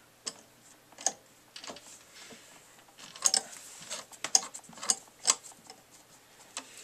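Screws tightened by hand to fasten a CPU cooler onto a PC motherboard, giving faint irregular clicks and small grinding ticks, close up in a quiet room with no talk.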